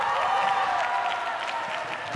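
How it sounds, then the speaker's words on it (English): Distant crowd noise at a table tennis tournament, a steady murmur with scattered clapping and mild cheering, moderately faint and continuous. "Crowd getting excited by lots of action going on elsewhere"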